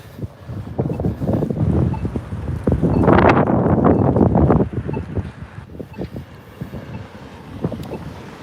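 Cold, gusty fall wind blows across Victoria harbour in Canada, a steady rumbling buffet that swells loudest midway before easing, with scattered knocks and clatter in the background.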